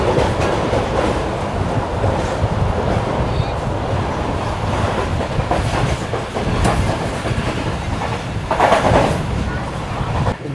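The Karakoram Express runs on rails between Karachi and Rohri, a continuous loud rumble with faint rhythmic clatter of wheels, heard from inside the moving train with brief louder swells.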